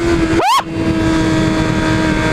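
A Yamaha R6 sport motorcycle, golden, idles with a steady close hum, gives one quick throttle blip that rises and falls in pitch, then settles back to a smooth idle.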